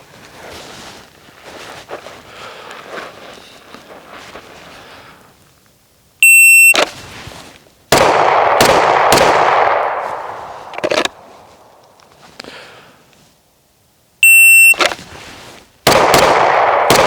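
Shots from a Smith & Wesson M&P Metal HD pistol ring out loud and close on a range, each string opened by a shrill electronic shot-timer beep and followed by sharp rapid reports in quick succession, with quieter gaps of rustling between strings.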